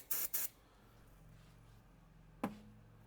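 Starting fluid sprayed into the intake of a Hyundai Veloster Turbo engine that cranks but won't start, heard as two short close hissing bursts, followed by quiet and one brief sharp click.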